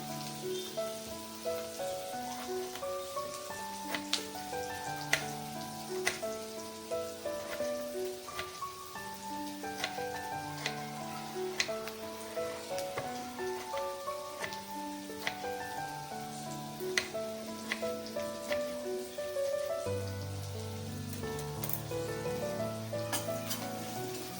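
Onion sautés in a pan for a prawn dish, a steady crackling sizzle with scattered pops running throughout beneath melodic background music.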